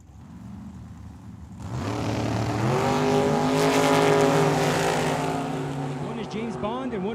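A dragster and a '57 Chevy race at Tucson Dragway. Engines idle briefly, then roar up sharply into a loud, sustained rising rev that stays close and dominant before easing off near the end.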